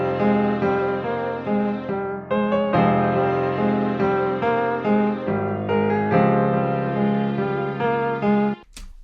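A hip-hop beat built in FL Studio 24 plays continuously: a strings melody layered with piano over steady bass, loud and dense throughout, with a brief drop near the end.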